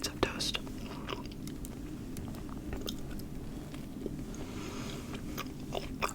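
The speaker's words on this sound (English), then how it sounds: "My last bites of toast." Toast is bitten and chewed close to the microphone, with soft, crunchy bites and moist chewing repeating quietly and intimately.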